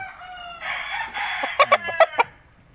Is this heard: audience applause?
no